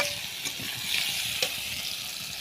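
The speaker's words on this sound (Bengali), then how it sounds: "ওলকপি আলুটা নুন হলুদ দিয়ে নেড়ে নিচ্ছি" Kohlrabi and potato pieces stir-fried with salt and turmeric in a pan, producing a steady soft sizzle with a couple of faint spatula scrapes, close by and without speech.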